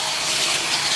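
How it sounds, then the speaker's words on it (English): A steady, loud spray of water pours into an air conditioner coil, a brief continuous hissing gush with no pauses. "make sure you put a lot of water into this thing."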